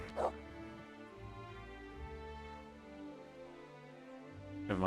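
A dog in the video game Kingdom Come: Deliverance whimpers and gives a couple of short yips, fairly faint beneath a low droning musical background.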